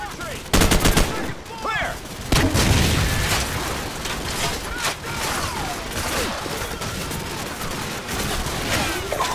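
Call of Duty 4: Modern Warfare battle sounds: loud, dense bursts of machine gun and rifle fire with booming impacts, while soldiers shout over the continuous gunfire.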